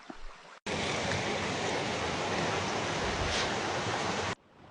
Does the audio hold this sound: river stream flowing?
yes